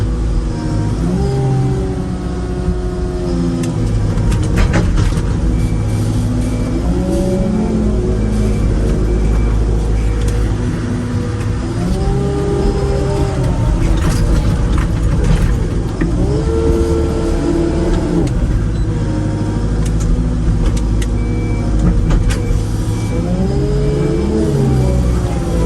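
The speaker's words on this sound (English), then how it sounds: "Loading the muck spreader with the articulation is quite nice" An articulated loader works loading a muck spreader, its diesel engine roaring loud and close with repeated rising revs and hydraulic strain over a constant low rumble.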